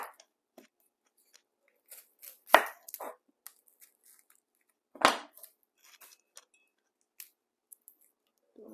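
An onion being peeled and cut by hand in a quiet kitchen: sparse crisp snaps and cuts, with two louder crunching slices standing out against near silence.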